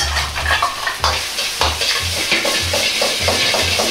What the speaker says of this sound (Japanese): お玉の底でご飯の塊をほぐしながら鍋を振り、均一に火が回るように炒める。